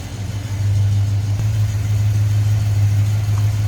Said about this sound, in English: Buick 350 underneath there. A little bit of rumble out of it.